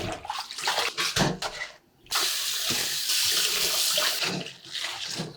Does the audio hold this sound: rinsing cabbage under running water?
yes